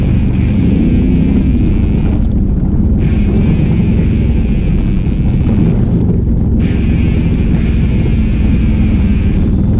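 An old dirt bike engine revs hard while riding through mud on 30-inch mud tires, a loud, continuous roaring drone with wind rush and no pauses.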